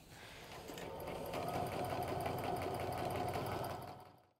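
A sewing machine stitches pajama pant seams in one continuous run, its motor humming and needle tapping rapidly and evenly up close before stopping.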